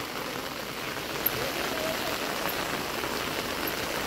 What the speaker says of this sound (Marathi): पाऊस बघा ना केवढा पडतोय